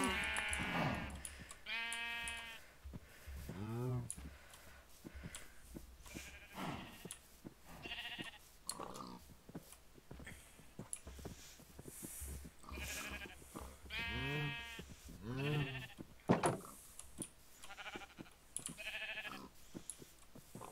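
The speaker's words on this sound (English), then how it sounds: "First, we need to work on these sheep." Sheep in the video game Minecraft bleat repeatedly, with short overlapping cries from several animals scattered over a steady background, heard clearly and fairly close.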